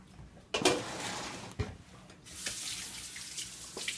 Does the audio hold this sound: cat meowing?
no